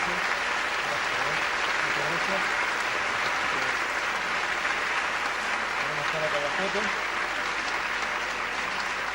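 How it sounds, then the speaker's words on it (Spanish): A crowd applauding steadily for several seconds, a dense even roar of clapping with a few voices mixed in. "Fuerte el aplauso para el profesor Ángel Díaz Barriga por su participación."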